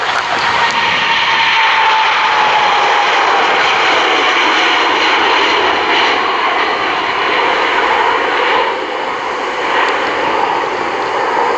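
A Cathay Pacific jet airliner takes off from runway 17R, its engines producing a loud, continuous roar with a whining tone that holds steady throughout, with no voices.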